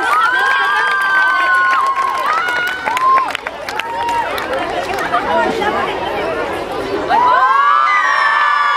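Schoolgirls cheering loudly at a school sports day, a dense crowd of shouting children's voices with rising whoops and chatter throughout, swelling again near the end.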